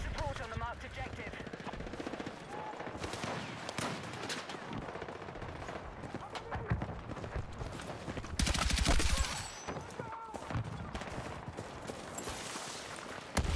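Gunfire in Battlefield 6, bursts of automatic shots and distant cracks crackling steadily, with a louder close burst near the middle and a player talking over the action.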